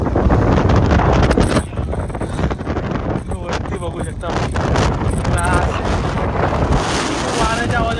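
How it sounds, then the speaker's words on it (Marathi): Strong wind gusts over an open hilltop at Hanumankada in Kharghar, roaring and buffeting the microphone close up throughout, while someone speaks briefly under the rush. "वाऱ्याच्या आवाजाने समजत असेल"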